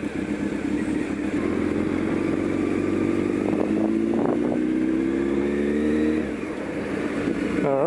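A motorcycle rides steadily into a bike parking area at South Bank Parklands, its engine droning close and loud with rising harmonic pitch, then easing off near the end with a brief rev.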